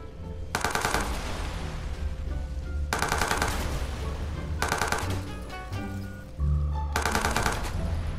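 Rapid automatic gunfire in a video game shooter, loud bursts of machine-gun fire in several separate volleys with short pauses between them and no talking over it.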